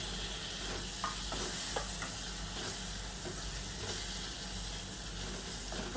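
Finely chopped tomato is stirred into spinach bhaji frying with garam masala, giving a continuous close sizzle and hiss under soft, repeated spoon stirring, with no voices.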